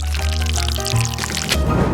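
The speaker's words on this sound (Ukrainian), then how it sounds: "Далі наливаємо шоколад" Melted chocolate pouring steadily into moulds filled with crushed biscuit, a continuous close liquid stream lasting about two seconds, with no talk over it.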